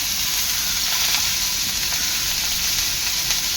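Prawns coated for rava fry sizzle on a flat pan, giving a steady, loud, close frying hiss that runs unbroken for a few seconds without voices.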